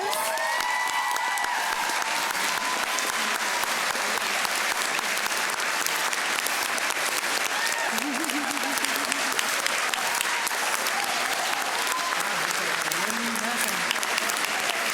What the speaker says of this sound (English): please, if you are a nurse, stand up so we can give you a round of applause